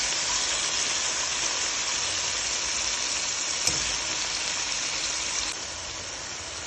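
Fish sautéing in a pan for a Jamaican-style brown stew, a steady broadband sizzle that holds evenly throughout, close and fairly loud with a couple of faint clicks and no talking.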